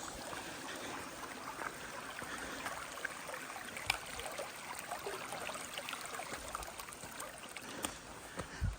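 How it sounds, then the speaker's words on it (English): A stream flows over rocks at a trail water crossing, a soft, continuous trickle and gurgle with scattered faint splashes and footstep-like knocks, fairly quiet throughout. "Here we are, the first treacherous water crossing."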